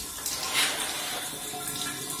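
Water runs steadily from a toilet flush, a faint continuous wash of hiss and splash with a brief louder surge early on, heard alone without talk.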